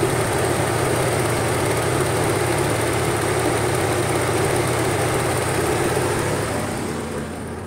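A steady whirring Honda Civic radiator auxiliary fan drones on continuously alongside an idling engine hum while the engine is still hot, easing down slightly at the very end.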